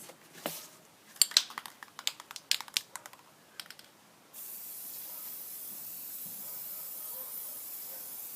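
A spray nozzle hisses in a steady continuous burst during a craft technique, following a run of sharp irregular clicks and taps.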